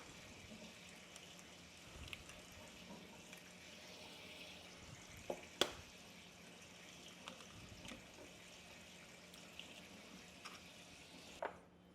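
Warm water runs from a kitchen tap during gluten-free sandwich bread baking, a faint, steady stream with a few small clicks and knocks, no talking.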